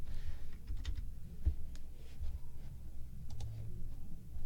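A computer keyboard at a Magic: The Gathering tournament match, with faint, scattered key taps and clicks spaced irregularly over a low background hum.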